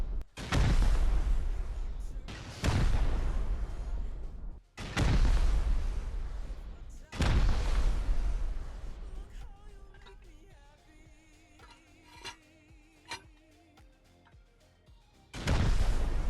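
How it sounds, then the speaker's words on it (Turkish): Rockets fire and explode in the Rust video game, with four loud, sustained booming blasts, a quieter stretch of clicks and tones, then another heavy explosion at the end. "Gördüğünüz gibi 7 roket attık."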